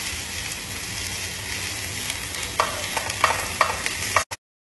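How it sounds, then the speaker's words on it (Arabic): Chopped onion with sweet and hot peppers sizzles in a pan with a little butter, a steady hiss broken by several scraping stirs before it cuts off abruptly. "بنفس المقلاة بحط البصل والفلفل البارد والحار. بحط ربع اصبع زبدة وببدأ حرك"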